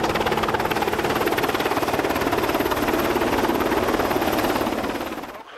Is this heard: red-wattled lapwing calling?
no